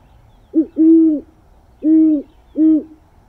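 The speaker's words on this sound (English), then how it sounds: "It's a great horned owl, and they have a very special hoot." A great horned owl gives a deep, resonant hooting series: a short note, a longer hoot, then two more evenly spaced hoots, clear against a quiet background.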